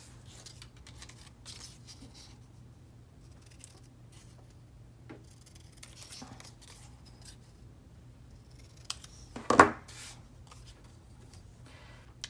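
Scissors cut paper for a planner spread in a quiet room, with small soft snips and rustles and one sharper, louder cut near the end.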